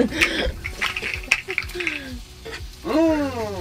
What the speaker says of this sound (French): Je vais tourner les steaks.